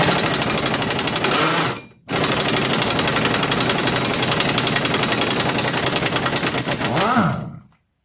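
Rapid rattling bursts of a power impact wrench loosening bolts on a VW Golf 3 wheel hub during a hub bearing replacement, one long loud run, a short gap, then a second run that cuts off.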